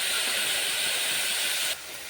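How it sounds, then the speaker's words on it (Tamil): Vegetables sizzle in a pan with ginger garlic paste for a veg bread biryani, a bright, steady frying hiss that drops suddenly in loudness near the end, with no talking. "சேர்த்துட்டு நல்லா வதக்கி விட்டுக்குருவோம்."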